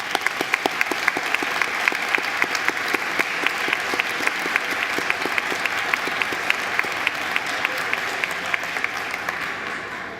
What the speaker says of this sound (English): Would all of those students please stand for a round of applause?